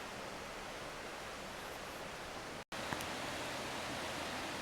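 River Honthie flowing below Priory Groves in Brecon, a steady broadband rush of water heard from some distance, constant and unbroken apart from a brief dropout near the middle.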